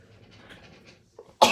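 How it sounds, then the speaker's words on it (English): Faint, muffled noise is followed by a short intake of breath and then one sudden, loud, close sneeze. "And I'm going to sneeze."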